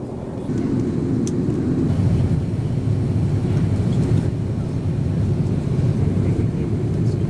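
Continuous low roar of an airplane cabin in flight over Ireland, a steady engine and air rumble with no break.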